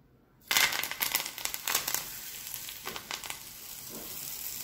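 Heated oil, reused from earlier frying, is poured over a raw mango chutney and sets off a sudden close sizzle that crackles loudly at first, then settles into a softer, steady hiss, with no speech.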